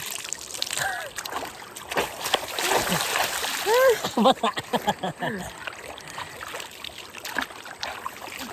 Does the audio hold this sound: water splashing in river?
yes